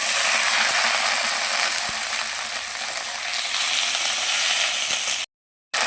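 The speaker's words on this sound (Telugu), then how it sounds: "ఆయిల్ వేస్తున్నాను 2 స్పూన్లు చాలు. పుదీనా, పచ్చిమిరపకాయలు వేపుకోవాలి." Mint leaves and green chillies frying in a couple of spoons of oil for village-style pachi pulusu, giving a steady close crackling sizzle throughout, with no talk, before a brief drop to silence near the end.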